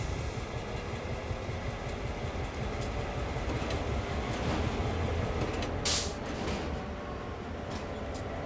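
A train diesel engine in Train Sim World 3 runs steadily, loud and close, with a dense continuous rumble throughout and a brief hiss of air near the end.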